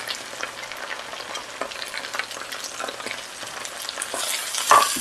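Powdered spices hit ginger garlic paste frying in oil for a mince curry with coloured capsicums, a loud close crackling sizzle with stirring scrapes that swells near the end, with no talking.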